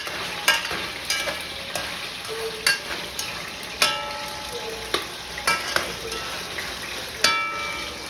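Carrots fry in a pan for Trinidadian lo mein, with a steady sizzle broken by regular clinks and scrapes as a utensil stirs them.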